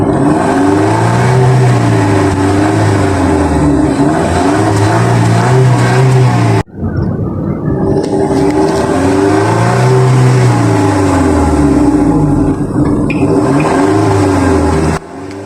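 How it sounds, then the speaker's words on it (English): A VW Jetta 6 with a 1.4 TSI engine and twin exhaust pipes revs repeatedly, loud and close, the pitch rising and falling in long sweeps with a brief cut midway; no talking. "listen to the sound of this double exhaust pipe?"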